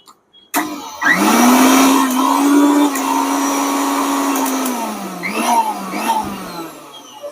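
A repaired mixer grinder switched on: a sudden loud motor whine that spins up and holds steady, then eases slightly and winds down toward the end, close and alone.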